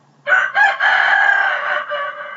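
A rooster crows loudly and close by, one long strained cock-a-doodle-doo with a rising start and a trailing end.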